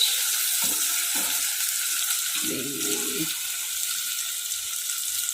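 A steady, loud hiss of sizzling oil fills the whole stretch, with brief low murmurs of voices underneath.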